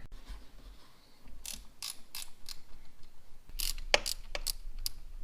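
A ratchet clicks in short bursts while loosening the 12mm bolts on the fuel filter housing of a 2001–2015 Duramax diesel, close and fairly quiet, with pauses between runs of clicks.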